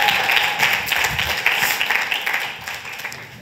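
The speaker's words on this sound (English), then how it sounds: "All right, give yourselves a round of applause." Applause from a conference crowd at a keynote speech, a loud burst of clapping and cheering that gradually thins and fades over a few seconds.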